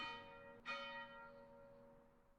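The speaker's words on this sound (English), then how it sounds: "warning bell noise" A single bright bell rings out as a warning signal, its clear tone struck near the start and struck again partway through, then decaying slowly into a long fading hum.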